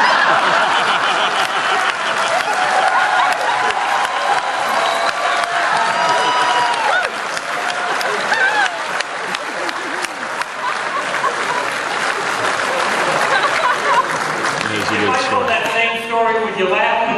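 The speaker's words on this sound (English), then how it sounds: "Would you laugh and applaud?" A convention crowd at a Babylon 5 cast reunion breaks into sustained loud applause mixed with laughter, filling the hall throughout, with voices speaking over the clapping.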